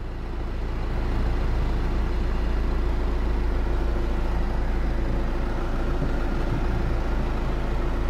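Close by, a 2007 Ford Fusion 1.4 TDCi diesel starts and settles into a steady low idle, a constant even drone with no talking.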